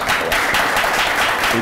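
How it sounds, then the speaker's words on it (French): An audience at a public event claps continuously for a guest named Waz, a brief burst of dense, steady applause heard up close. "je vous demande d'applaudir Waz"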